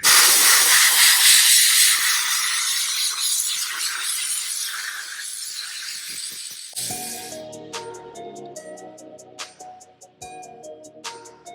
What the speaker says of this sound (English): So real quick, I'm just gonna blow this radiator out.